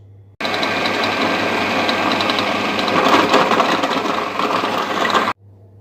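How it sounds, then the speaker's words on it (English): Four slices of bread are blitzed into breadcrumbs in a food processor for sage and onion stuffing. A loud, continuous whirring grind lasts about five seconds, then cuts off abruptly into quiet. "4 slices of bread in the food processor, waz them down into breadcrumbs"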